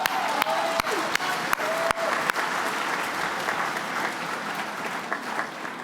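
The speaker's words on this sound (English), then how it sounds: "I think that deserves a round of applause" An audience at a Clubs NSW speech gives a round of applause, a dense patter of clapping with some sharp individual claps, fairly loud at first and tapering slightly, with a few voices murmuring among the crowd.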